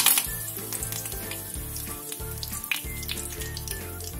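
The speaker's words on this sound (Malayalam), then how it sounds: "ഇതിലോട്ട് ഞാൻ ഇത്തിരി കറിവേപ്പില ഇട്ട് കൊടുക്കുകയാണ്." Curry leaves hit two tablespoons of hot coconut oil for a bitter gourd masala, giving a loud, steady crackling sizzle that holds for about four seconds over a low rhythmic backing.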